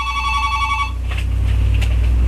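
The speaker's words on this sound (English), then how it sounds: "Darn it, my landline is ringing." A landline telephone rings loudly in repeated bursts with a bright electronic trill, then cuts off, followed by a low hum and faint background noise.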